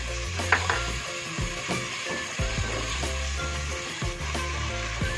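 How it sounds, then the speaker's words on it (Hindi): Masala sizzles and crackles in hot oil as it is stirred with yogurt for a goat trotter curry, a steady close frying hiss with rhythmic scraping strokes of the spoon, no talking. "मसाला हमारा अच्छे से भुन रहा है और इसने तेल भी छोड़ दिया है"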